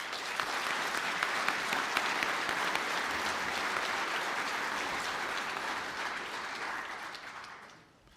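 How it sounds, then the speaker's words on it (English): Sustained applause from a graduation ceremony audience honouring Bachelor of Science Honours graduates in Biopharmaceutical and Healthcare Science, a dense steady clatter of many hands that fades out near the end. "Can I ask the graduate of Bachelor of Science Honours in Biopharmaceutical and Healthcare Science to stand to receive their applause?"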